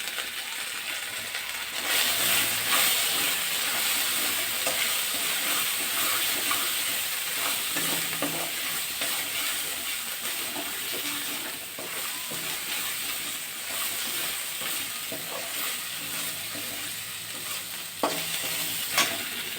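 Small fish and taro stems fry in hot oil with salt and turmeric, giving a steady, dense sizzle and hiss throughout, with occasional stirring scrapes and a few sharper clinks near the end.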